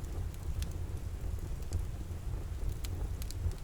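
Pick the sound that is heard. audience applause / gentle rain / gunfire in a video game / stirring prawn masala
gentle rain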